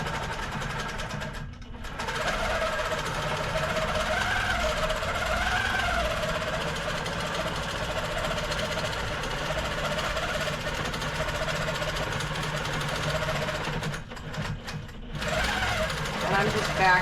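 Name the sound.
sewing machine back stitching an insulated tote bag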